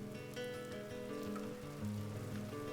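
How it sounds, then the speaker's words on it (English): Rain falls steadily in the voxel survival game Vintage Story, a soft continuous patter mixed with sustained tonal background music throughout. "Oh, it's raining."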